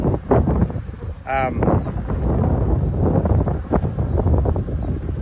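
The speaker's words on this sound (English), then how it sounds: "It's pretty windy out here today" Wind buffets the microphone in low, gusty rumbles at outdoor beehives that stay loud throughout, with a brief higher whine partway through.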